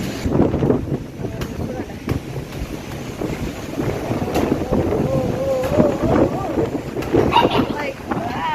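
Wind gusts buffet the microphone outdoors with a constant low rumbling roar while a person talks over it.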